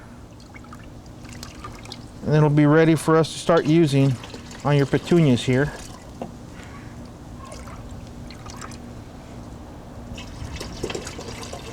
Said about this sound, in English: you want to fill up the other gallon with water